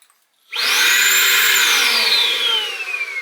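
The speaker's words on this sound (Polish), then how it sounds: "No ja w tym czasie zdążę odkurzać," A household vacuum cleaner switches on after a brief silence and settles into a loud, steady high-pitched whine with a rushing airflow underneath, running alone without talk.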